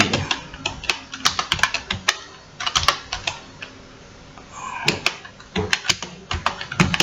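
Fingers typing a command on a computer keyboard, quick irregular clicks in short bursts with a brief pause midway, close and clear.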